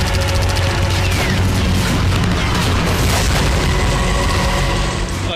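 Continuous heavy booms and rumbling blasts from artillery shelling in the Nagorno-Karabakh war between Armenia and Azerbaijan, dense and loud throughout with overlapping explosions and crackling.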